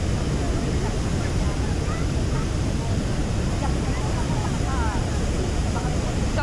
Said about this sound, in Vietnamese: một trong những thác nước lớn nhất thế giới